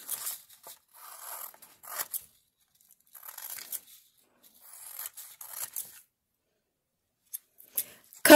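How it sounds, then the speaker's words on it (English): Scissors snip and slice through paper while an explosion shape is cut out for a pop-art collage, short crisp bursts of cutting close by, separated by pauses, with no talking. "First, cut out the explosion shape"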